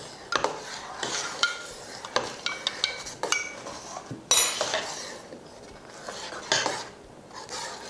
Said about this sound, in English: And we'll pour that and stir it around.